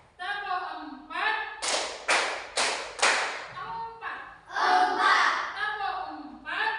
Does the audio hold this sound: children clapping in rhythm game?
yes